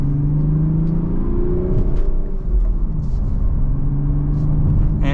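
A 2025 BMW Z4 M40i with a manual gearbox accelerates mildly in second gear, its engine a steady loud droning rumble rising and easing slightly in pitch, heard from inside the car without talking.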